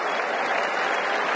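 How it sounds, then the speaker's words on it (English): A cricket crowd at a New Zealand v England match breaks into loud, dense applause and cheering after a big shot by Craig Overton, a steady wash of clapping with no break. "And something to cheer at last."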